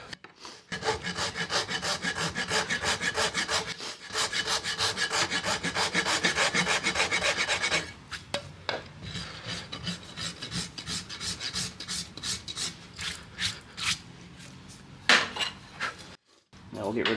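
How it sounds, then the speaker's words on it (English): Farrier rasping a large horse's hoof during a trim and shoeing job, with rapid rhythmic back-and-forth scraping strokes that are close and loud, then shorter bursts after a pause. "I'm going to start rasping here and pull it back this way to try and push that quarter up"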